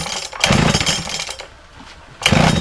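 A Makita petrol disc saw with an empty carburetor is pull-started on choke, its engine giving two loud, rough rasping bursts separated by a brief lull, close and without any voices.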